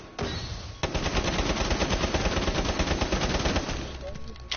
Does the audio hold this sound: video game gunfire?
yes